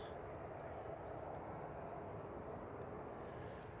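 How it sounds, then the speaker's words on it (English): A Ryanair Boeing 737 MAX 8 arriving at Manchester Airport from Malta gives a faint, steady engine roar from a distance, with no talk. "this one is coming in from Malta using the 737 MAX 8"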